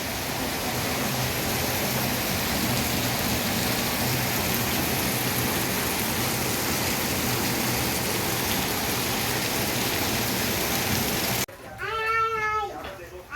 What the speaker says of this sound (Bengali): আর এই দশ পনেরো মিনিট ধরে এখন মুষলধারে বৃষ্টি হচ্ছে